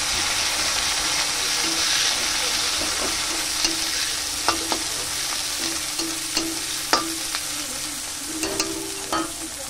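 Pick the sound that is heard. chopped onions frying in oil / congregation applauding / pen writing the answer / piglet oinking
chopped onions frying in oil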